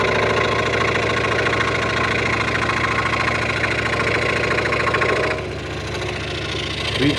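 A Delta scroll saw cuts a 3/4 inch piece of scrap wood with a rapid, rhythmic buzzing hum, loud and close, easing slightly as the cut ends.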